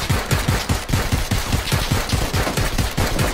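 Rapid automatic gunfire from the video game PUBG runs in a steady, evenly spaced burst of close, loud shots without pause.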